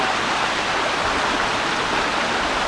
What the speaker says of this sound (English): This is the Condaguana Creek